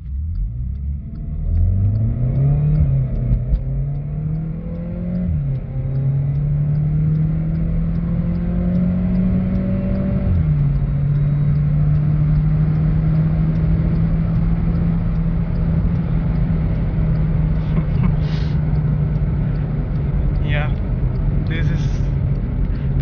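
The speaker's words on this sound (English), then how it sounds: "Road is free, I'm going to give a launch." A stage 2 tuned GT car launches and pulls hard, its engine note climbing steeply through the gears with brief dips at each shift before settling into a loud, sustained drone; faint voices appear near the end.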